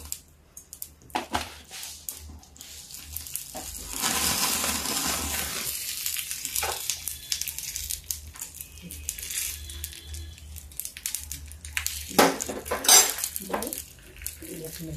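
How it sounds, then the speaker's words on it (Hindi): Ghee tempering of mustard seeds, cumin, asafoetida and red chili in a pan, with a long burst of spluttering and crackle mixed with metallic clinks and spoon scrapes, close and fairly loud, ending in sharp taps. "इसमें हम घी डाल देते हैं और फिर ये राई डालेंगे, ये जीरा डालेंगे और हींग डालेंगे, लाल मिर्च डालेंगे।"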